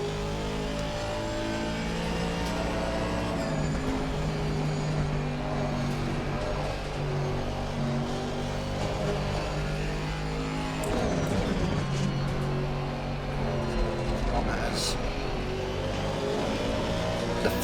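A McLaren GT race car in Assetto Corsa Competizione lapping Kyalami, its engine droning steadily at high revs with shifts up and down and a few rises and falls as it brakes and accelerates through corners, with no voices over it.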